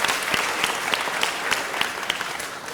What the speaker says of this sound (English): Let's give them a great round of applause for the Science Bowl members.